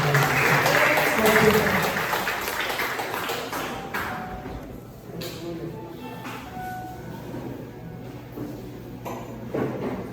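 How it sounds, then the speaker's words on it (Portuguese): A church congregation claps loudly for Jesus during an evening service, a dense burst of applause that thins out after a few seconds into scattered claps and faint murmurs. "Aplauda Jesus bem forte"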